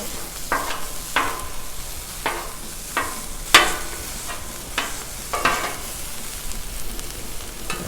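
Food sizzles on a hot Blackstone griddle as a skillet meal cooks, a steady close crackle broken by a few sharp scrapes and taps of a spatula against the flat-top.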